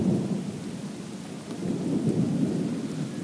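Steady heavy rain from a thunderstorm during a tornado in Goderich, Ontario pours down with low rolling thunder rumbling throughout, no voices present.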